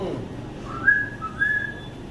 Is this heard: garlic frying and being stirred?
no